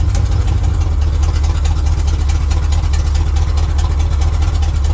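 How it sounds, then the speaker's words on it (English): A classic Chevy engine runs steadily and loudly up close, a continuous rumbling idle with a fast, even pulse and no distinct clunks standing out. "in that transmission, the torque converter starts clunking"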